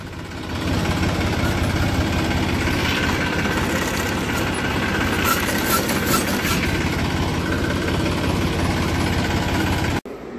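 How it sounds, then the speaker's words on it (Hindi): A tractor engine runs steadily at close range on a farm, a continuous low rumble with a broad, slightly rattling texture that stays loud and even for about ten seconds before cutting off abruptly near the end. "ट्रैक्टर ला कर खड़ा कर दिया है"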